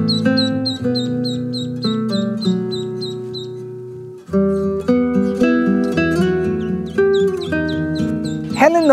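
A hen clucks repeatedly in a steady rhythm, calling ducklings away from water, with high peeping chirps throughout, close and fairly loud.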